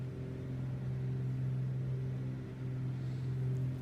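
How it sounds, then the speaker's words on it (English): Turbocharged piston engine of a Grand Duke aircraft in Microsoft Flight Simulator, droning at a steady, loud pitch with a raspy, buzzing edge and no break or change in speed. "these turbocharged pistons are just raspy, aggressive"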